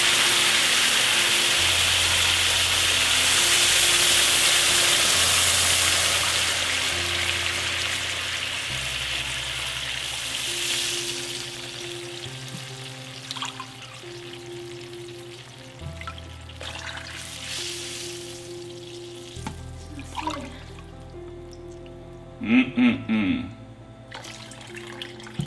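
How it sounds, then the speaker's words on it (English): Rice-A-Roni rice sizzling in a pan, a loud steady hiss of frying that gradually fades and thins, with faint clinks and stirring noises and a few knocks near the end. "Listen to it sizzle."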